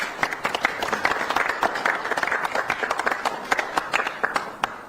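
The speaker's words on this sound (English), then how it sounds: "Round of applause." Applause breaks out for a US president visiting South Korea: a dense burst of many hands clapping at close to middle distance, steady and unbroken for several seconds with sharp individual claps standing out.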